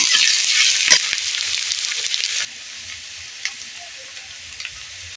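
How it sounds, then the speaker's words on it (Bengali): Onion and garlic frying in a pan, a loud, steady sizzle that suddenly drops to a quieter crackle halfway through, with a few stirring clicks. "পেঁয়াজটা মোটামুটি ভাজা হয়ে গেছে এই পর্যায়ে দিয়ে দেব রসুন রসুনটা খুব ভালো করে ভেজে নেব"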